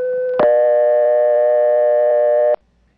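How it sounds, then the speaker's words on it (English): A 1977 coin payphone in Belhaven, North Carolina gives a steady single pre-dial tone that abruptly switches to a louder, richer continuous tone lasting about two seconds before cutting off, heard alone and close. "this pre-dial tone tone, which only payphones have, is the same tone as is heard by the operator when she answers"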